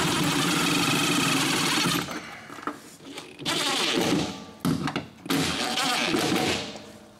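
Power driver running self-tapping tek screws through a bracket during a truck LS swap, delivered as several loud buzzing bursts separated by short pauses, close by and alone.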